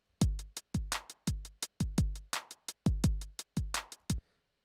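A straight, unswung drum machine beat of kick, snare and hi-hat hits in even, rigid timing, close and clean, about a dozen sharp strikes before stopping, no voices.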